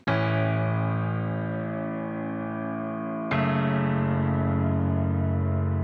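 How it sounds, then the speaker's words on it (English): Two soft piano chords, each struck once and left ringing with a slow fade, the second entering after about three seconds. "So I added a piano, really simple, just playing each chord change."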